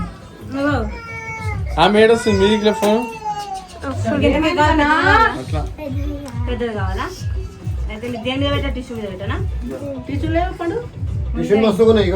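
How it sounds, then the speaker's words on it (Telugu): A cat meows repeatedly at close range in a home during a birthday gathering, giving drawn-out, rising and falling cries in quick succession, while people talk over it. "దొంగ పిల్లి కేక్ తింటుంది"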